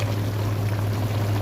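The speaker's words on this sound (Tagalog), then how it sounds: "lalagyan na siya ng tubig na mainit" Hot water poured into sautéed tomato paste in a pan for Arabic kabsa pasta, a steady close sizzling wash with a low hum underneath, continuous for the whole moment with no talk.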